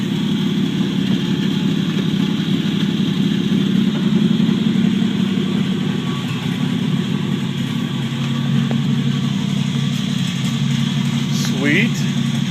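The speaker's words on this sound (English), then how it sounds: "Let's put this thing in gear, see if it actually moves." The engine of a 1949 Chevrolet Deluxe four-door runs at a steady, rumbling idle while the car is put into gear, with people talking over the continuous hum.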